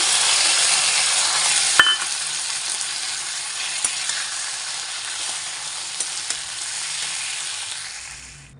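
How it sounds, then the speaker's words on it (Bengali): Cauliflower and potato fry in a pan as ground spice paste goes in, making a loud, dense sizzle. A few light clinks of stirring punctuate it, and the sound fades toward the end. "আমার ফুলকপি আলু ভাজা হয়ে গেছে এই যে এখন মশলাটা দিয়ে দেবো বেটে রেখেছিলাম"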